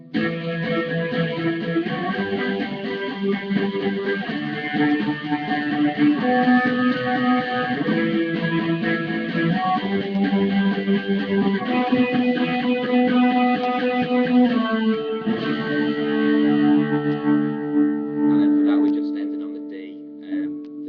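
An electric guitar plays a melodic lead in octaves, with notes shifting in steady phrases before ringing out at the end.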